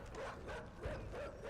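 Dogs in the video game Inside yelp and bark in a quick, repeated string of faint, whiny yips, with no voices over them.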